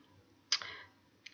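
A single sharp computer mouse click, close and crisp, followed about three-quarters of a second later by a fainter second click in a quiet room.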